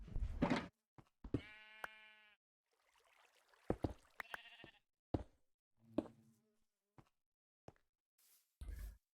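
Sheep on a Minecraft farm bleat in several short, separate cries, with gaps of silence and a few soft clicks and game sounds in between.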